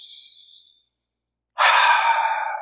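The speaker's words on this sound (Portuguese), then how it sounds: "respirando profundamente." Someone breathes deeply, with a soft, thin exhale trailing off, a second of silence, then a strong, close inhalation drawn through the nose.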